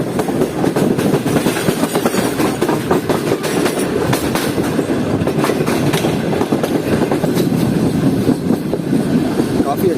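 The Karakoram Express rolls slowly over the rails near Begmaji railway station between Karachi and Lahore, with a loud, steady rumble and rhythmic clickety-clack of the wheels heard close up from on board.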